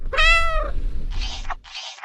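A single cat meow, close and clear, followed by a couple of short hissy noise bursts.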